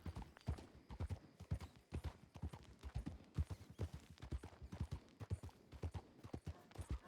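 Horse hooves clip-clopping in a steady, fairly loud rhythm on hard ground, with an occasional faint whinny and no talking.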